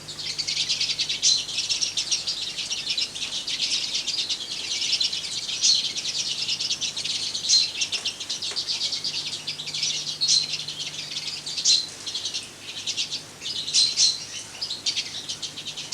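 A busy aviary full of mealy birds and cinnamons keeps up dense, high-pitched chirping and twittering, a constant overlapping chorus with occasional louder calls standing out and no voices.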